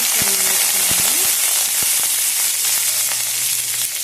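Green chillies fry in hot oil in a kadai, making a loud, steady sizzle and crackle with sharp pops and some stirring.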